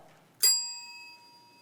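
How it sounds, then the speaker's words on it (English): A single bright hand bell ding rings out on a theatre stage after brief quiet, its clear metallic tone lingering and fading over about a second. "they will indicate so by ringing a bell"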